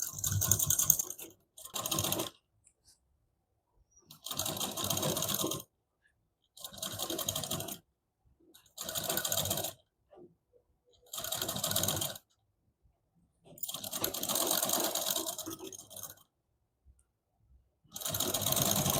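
An electric sewing machine stitches a size 32 double katori blouse in rapid, loud bursts of whirring needle, each run lasting a second or two and separated by short pauses as the fabric is repositioned.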